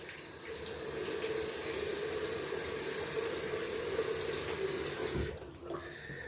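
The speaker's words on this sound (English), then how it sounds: "Gonna add some cold water to the face." Tap water runs steadily into a sink for several seconds while cold water is splashed on the face during a wet shave, then cuts off abruptly near the end.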